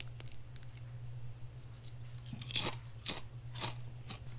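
Grilled fried scales of farmed mullet crunch crisply between the teeth, several sharp close bites and chews spaced about half a second apart over a low steady hum.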